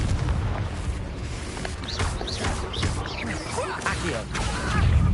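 Magical blasting bursts from the Confringo fire spell in a Harry Potter video game, several whooshing impacts and booming crashes over a steady rumbling backdrop, with spell-casting voices around them.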